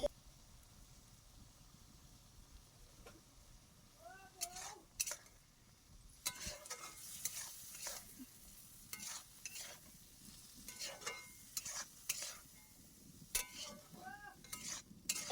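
Jackfruit seeds frying with spices in a pan, soft intermittent sizzling broken by spoon scrapes and clinks against the metal, quiet and close.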